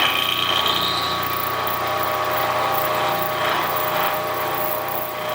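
Bridgeport milling machine taking a quarter inch cut, a steady broadband cutting and motor whine that holds at even loudness throughout, close by and alone with no talk.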